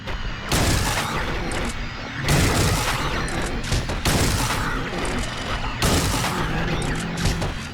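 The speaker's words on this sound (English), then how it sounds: "Shotgun. I have seven shots." Shotgun blasts from the video game Silent Hill 3: four loud, booming shots spaced roughly two seconds apart, each with a long ringing tail, with no talking.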